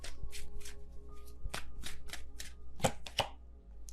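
Tarot cards are shuffled and drawn by hand in a quiet room, with a series of crisp riffling bursts and soft slaps as cards are set down, close and fairly faint.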